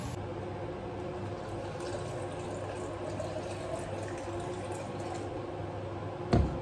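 Cold water poured from a bottle into a shaker cup for a protein shake, a steady close-up gurgling trickle running for several seconds before a short louder knock near the end.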